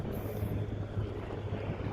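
Seaside wind at a land reclamation site rumbles and buffets against the microphone in a steady low roar, with a faint engine-like drone underneath.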